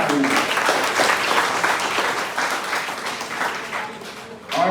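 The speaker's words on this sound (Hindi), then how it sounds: "इसके लिए एक बार बच्चों जोरदार तालियां।" A crowd of children applauds loudly and continuously at a live event, a steady roar of clapping that fills the whole stretch with no pause.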